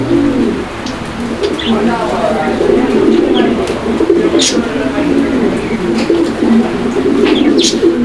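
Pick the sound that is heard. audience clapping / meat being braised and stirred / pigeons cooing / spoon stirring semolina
pigeons cooing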